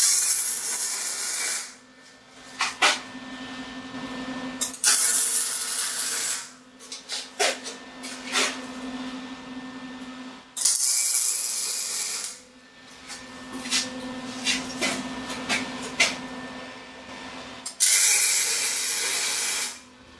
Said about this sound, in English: what we're going to do is tack weld these on here, get them all on